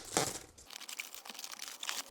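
Sealed cardboard packaging for a DJI Air 3 drone being cut open along the side seams, giving brief close crinkling and tearing scrapes in short bursts with no speech.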